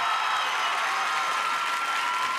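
A large audience at a France's Got Talent audition applauds in a steady, dense roar of clapping for a few seconds, with faint cheering mixed in.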